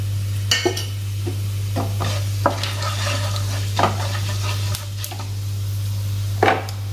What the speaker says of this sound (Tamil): பாருங்க, எண்ணெய் காஞ்சிருச்சு. இப்போ இதை போடுங்க. பட்டை, நசிப்பு, தாளிக்கிற ஜாமான் எல்லாத்தையும் போடுங்க